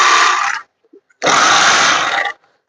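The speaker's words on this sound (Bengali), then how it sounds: "এই যে দেখেন ব্যাগটা কিভাবে সেলাই করতে হয় এটা আমি দেখাই দিতেছি" A bag closer machine stitching a sack, two loud buzzing bursts of about half a second and one second, separated by a short pause with faint clicks.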